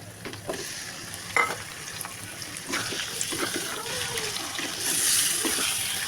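Chicken pieces frying with onions and green chillies in a pan for a home-style chicken curry, a steady close sizzle with scraping stirs and brief clinks, no voices.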